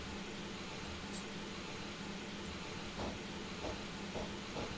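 A steam train in Train Simulator, on the Isle of Wight Steam Railway, runs with steady hissing and rumbling over a constant noise bed, with a few soft rhythmic chuffs toward the end.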